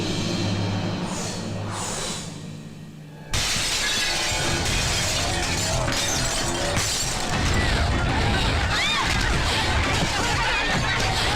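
A shop is smashed up, starting with a dull rumbling scene that breaks into a sudden loud crash of shattering glass, followed by continuous clattering, breaking and debris falling for several seconds.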